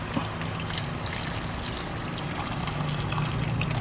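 Hot water poured from a kettle or pot in a home kitchen, a steady continuous splashing pour with a low gurgling stream, close and fairly loud throughout, with no talk.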